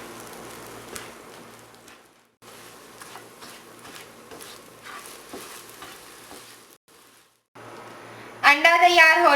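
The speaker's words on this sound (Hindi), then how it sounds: "अब हम इसे हिलाते रहेंगे ताकि ये एक जगह पे ही ना पके बल्कि ये टूटा हुआ पके।" Egg stirred and frying in a pan for chapli kabab prep, a steady crackling sizzle with soft scraping, briefly dropping out twice, then a voice speaks loudly near the end.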